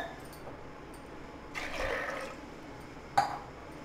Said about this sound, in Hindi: साथ में इसमें ऐड कर देंगे दो गिलास पानी।